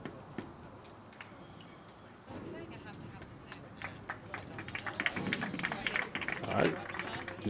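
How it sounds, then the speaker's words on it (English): Crusaders basketball players clap together before taking the court at a TAPPS 5A regional high school game, a rising patter of clapping amid crowd noise and an announcer's voice. "the Crusaders are clapping it up"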